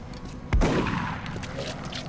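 A sawed-off shotgun fires once in the Long War mod for XCOM: a single heavy, close blast with a ringing tail, followed by fainter game effects and ambient noise.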